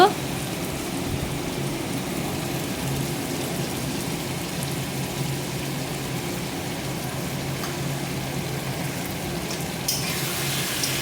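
Eggs and potatoes fry in a pan for an egg curry, making a loud, close, continuous sizzle that holds steady throughout.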